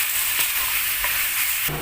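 Chopped tomatoes and tomato paste sautéing in a pan for a sour zucchini stew, a steady close sizzle and hiss with a few soft stirring scrapes.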